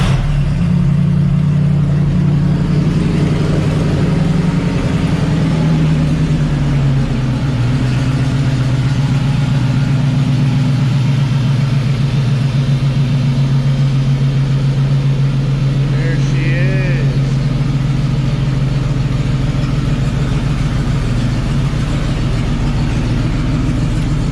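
A Mercedes-Benz W108 engine rumbles loud and close, catching and settling into a steady, deep running note with slight swells in pitch. It holds unbroken to the end.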